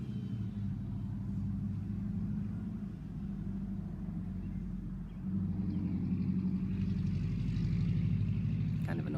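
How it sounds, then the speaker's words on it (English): A car engine rumbles close by with a low, steady drone, growing slightly louder toward the end as the vehicle passes, with no voices over it. "Wait for that car to go by."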